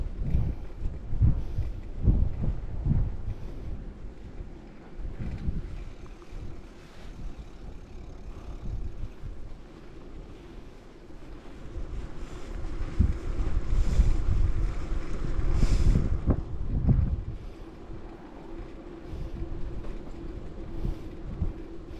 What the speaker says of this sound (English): The wind drive crazy.